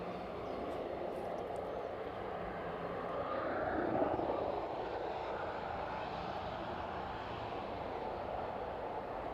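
A jet airliner departing East Midlands Airport in the evening, a broad steady engine roar that swells slightly near the middle before holding, heard from a distance with no talk.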